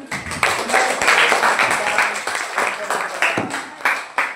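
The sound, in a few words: class clapping after a presentation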